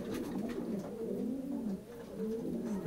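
Racing pigeons coo continuously in low, rolling, throaty calls that rise and fall, fairly close and steady throughout with no talking.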